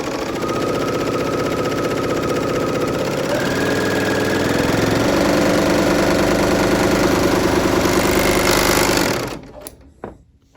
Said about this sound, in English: So working with an overlocker, it's trial and error.